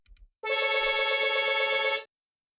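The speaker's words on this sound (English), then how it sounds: "That'll be the phone." In the video game Murder On Eridanos, a telephone rings in a single clean electronic burst of about one and a half seconds. The ring is loud and close, with no voices.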